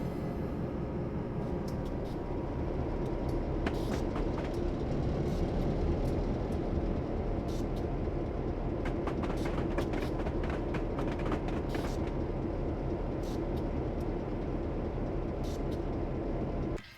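A Great Northern F7 diesel locomotive in Train Simulator 2021 rumbles along Montana track, a steady low engine drone with rhythmic wheel clicks and rail noise lasting the whole stretch, no voices.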